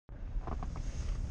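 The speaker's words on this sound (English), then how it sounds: "It is just too windy." Steady wind buffets the microphone in a continuous low roar with gusty fluctuations, with nothing else clearly audible.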